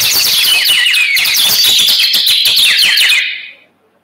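A nightingale whistle instrument trills brightly in rapid bird-like bursts, imitating nightingale song, then stops abruptly.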